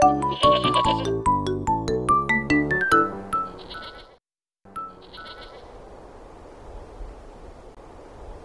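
Cartoon goat bleating in a rapid, rhythmic series of bright, wavering calls, then a pause and a quieter stretch with faint rustling.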